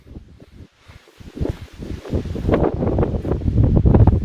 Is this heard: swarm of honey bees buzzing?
no